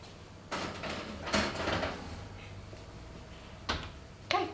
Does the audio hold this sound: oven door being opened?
yes